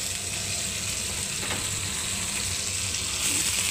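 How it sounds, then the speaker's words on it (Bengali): Cauliflower pieces dropped into hot oil, a dense, loud, continuous sizzle with faint stirring, close and without talk. "ফুলকপিটাকে ছেড়ে দিলাম বন্ধুরা"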